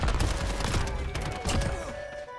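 Akimbo snakeshot pistols fire in rapid bursts during a Modern Warfare match, a dense, busy volley of close shots layered over game noise, with no voices.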